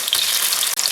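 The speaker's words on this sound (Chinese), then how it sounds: "葱姜蒜爆香" Scallion, ginger and garlic hitting hot oil in a wok as aromatics for braised beef trotters, a loud, dense crackling sizzle filling the moment with brief sputtering pops.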